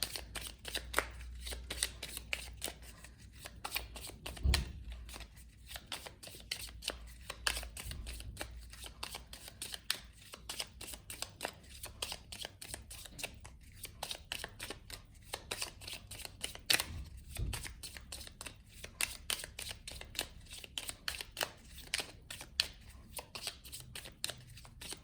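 Tzigane oracle cards are shuffled continuously at close range, a rapid, even patter of riffling and flicking card edges that carries on steadily without talk.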